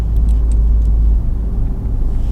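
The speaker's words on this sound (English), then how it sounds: "it's going to accelerate me back up to 60, which was where I was at" Fiat Abarth 500 with an aftermarket cruise control kit picking up speed, heard from inside the cabin as a steady, loud low engine and road drone that eases slightly partway through, with no talking.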